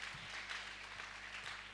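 A church congregation applauds during a French-language sermon, a steady, fairly faint wash of clapping that continues through the short moment without pause.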